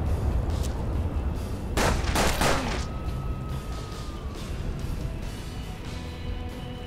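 Pistol gunshots in the turn-based western game Hard West, with a loud cluster of sharp shots close together midway through over a constant background rumble.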